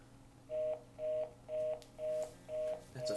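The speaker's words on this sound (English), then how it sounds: "Phone. That's a phone," Telephone dialing tones from a phone behind the speaker: six evenly spaced electronic beeps, about half a second apart, clear and steady with no talk.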